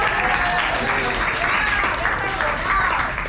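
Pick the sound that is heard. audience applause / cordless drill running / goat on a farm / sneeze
audience applause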